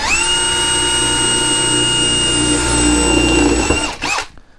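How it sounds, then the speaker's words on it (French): Bosch GSR 18V-150C cordless drill boring through aluminium: a loud, steady high-pitched motor whine held for about four seconds, then winding down abruptly as the bit stops. "on va percer l'aluminium. Voilà, ça perce."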